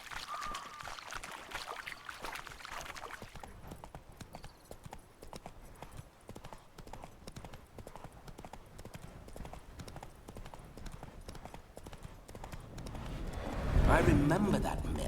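Roach the horse trotting in The Witcher 3 with a steady, rhythmic clip-clop of hooves under ongoing talk, growing louder and closer toward the end.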